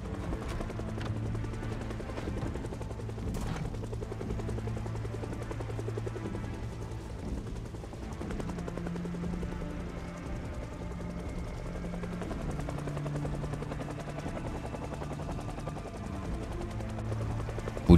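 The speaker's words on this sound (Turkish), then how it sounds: "Helikopter sesi onları ayaklandırıp buralara çekmeden" A helicopter's steady rotor drone in the game Project Zomboid fills the scene continuously, loud and close, with a low throbbing hum and occasional faint clanks from the game environment.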